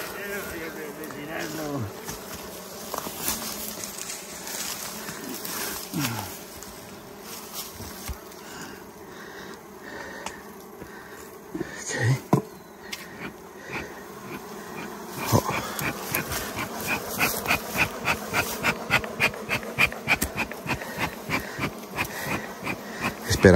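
Swarming bees buzz around honeycomb combs inside a cave while smoke is used on them, a dense, close, continuous drone that grows busier and more pulsing toward the end.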